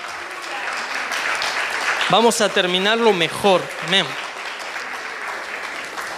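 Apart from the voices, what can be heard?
congregation applause in church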